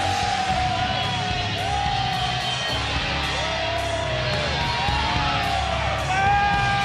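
A capacity crowd at a wrestling event at Melbourne Cricket Ground roars with continuous yelling and cheering, loud and dense, while a repeating pitched sweep and an echoing voice come through over the din.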